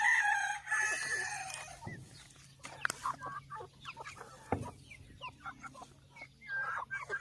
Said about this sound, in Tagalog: Ito pa po ang iba pang manok natin.